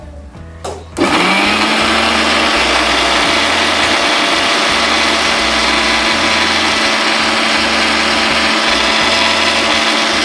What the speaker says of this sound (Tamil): சோம்பு, ஜீரகம் இதெல்லாம் போட்டு கொஞ்சம் குறன்னு அரைச்சிக்கலாம்.